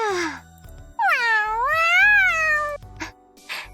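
A cat in a video game meows several times, a long drawn-out rising and falling meow in the middle flanked by shorter cries, loud and clear over faint game background tones.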